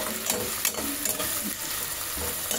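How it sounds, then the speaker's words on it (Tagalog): Potatoes and pechay sautéing in a hot pan, a steady close sizzle with intermittent scraping and stirring clinks, no voices. "Gisa-gisa natin ng konti hanggang maluto."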